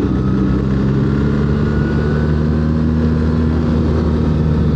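A 2025 BMW R 1300 GS motorcycle riding on a Pennsylvania road, its engine a loud, steady low drone with wind rush, the pitch holding nearly level through the downshift with no distinct throttle blip.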